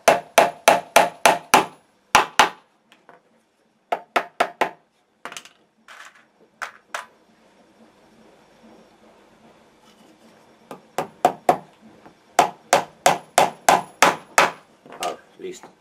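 Double-pointed nails hammered into a homemade chicken feeder with a rod and small staples, sharp close metallic blows in rapid bursts of several strikes, separated by pauses and quieter taps, with no talking.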